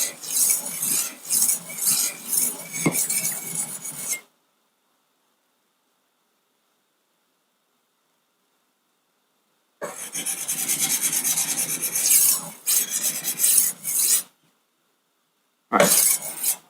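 A knife is sharpened on a Wicked Edge Go sharpener with fine abrasive stones, producing close, repeated scraping strokes in three bursts separated by silent pauses.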